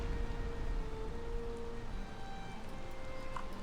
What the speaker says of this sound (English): as I was gardening, it started raining